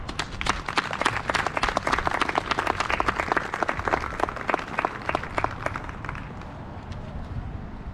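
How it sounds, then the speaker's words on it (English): Sustained applause from a crowd at a middle school National Junior Honor Society ceremony, dense steady clapping that carries on for several seconds before thinning out toward the end. "For this, we applaud you."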